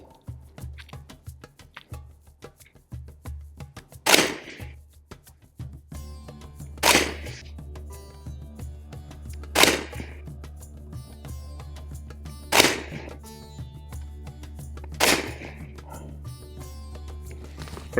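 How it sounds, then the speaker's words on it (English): A Caracal CAR814 A2 7.5-inch AR-15 pistol fires 300 Blackout, five sharp, loud single shots spaced a few seconds apart outdoors over a low background hum. "why don't we fire some Hornady American Gunner 300 Blackout"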